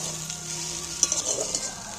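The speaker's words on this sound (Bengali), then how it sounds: "দেখো, পেঁয়াজগুলো আমার লাল লাল করে ভাজা হয়ে গেছে।" Onions fried until reddish-brown in a pan, giving a steady close crackling sizzle with a few sharper pops and stirring scrapes partway through, heard alone.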